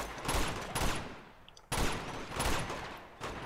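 Enemy gunfire in Uncharted 2, heard as repeated close bursts of rapid shots. Two sustained volleys crack out one after another, with a brief lull between them and another burst starting at the end.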